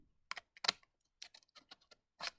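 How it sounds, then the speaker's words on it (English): Scissors snipping folded origami paper for a puppet base: a handful of short, dry clicks and snips close up, spaced irregularly in a quiet room. "You're going to grab the scissors and just make a snip here."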